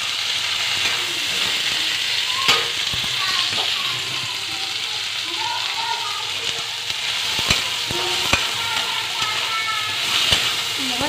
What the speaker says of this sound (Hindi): मैंने छोटे टमाटर कटे हुए डाले हैं।